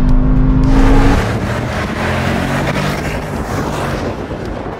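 A Mercedes-AMG GT63 SE accelerates hard on a race track, its engine note loud and close, rising through revs with a brief shift dip, over heavy wind rush and no talk.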